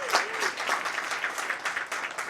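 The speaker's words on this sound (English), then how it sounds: "Give yourselves a round of applause for being here." Audience applause at a Seattle Office of Immigrant and Refugee Affairs community gathering, a steady wash of clapping from a moderate crowd, fairly close, with a faint voice briefly audible under it.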